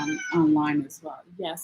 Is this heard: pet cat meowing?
yes